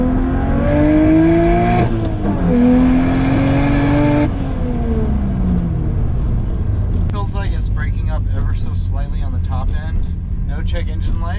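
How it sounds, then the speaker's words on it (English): A BMW E90 335i drift car idles and revs with an uneven, stumbling engine note suggesting a misfire from injector 3, its pitch rising and falling through sweeps; someone talks over it throughout. "no check engine light or misfire, but you can kind of hear it."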